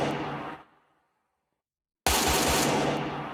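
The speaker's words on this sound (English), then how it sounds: "So now, we hear the AK-47 shoot sound." An AK-47 shot from the Minecraft WeaponMechanics plugin cracks loudly, its tail fading over half a second into silence, then a second loud blast hits and sustains with a slow decay, heard alone without voices.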